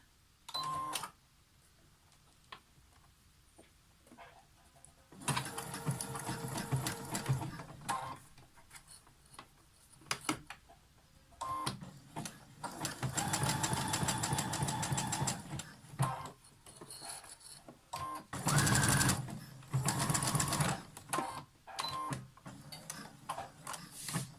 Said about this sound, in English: Now I've changed to a zigzag stitch, and just the top edge of the elastic here, I'd like to get that under the machine.